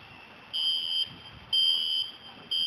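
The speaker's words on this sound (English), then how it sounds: "I have no idea why the fire alarm went off." A building fire alarm sounds in loud, piercing electronic bursts of about half a second, repeating in a steady on-off pattern with short gaps between.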